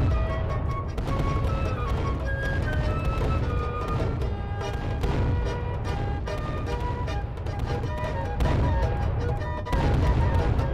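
Fireworks at a wedding boom and crackle continuously, loud and close, with a rough layered rumble throughout.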